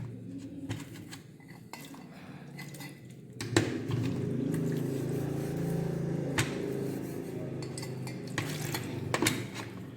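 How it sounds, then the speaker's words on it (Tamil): Water is poured over gold jewellery during cleaning, making a steady, close splashing wash that starts partway through, with light metallic clinks of dishes and utensils around it. "இப்போ பாருங்கள், தண்ணி மேலே ஊற்றுறேன்."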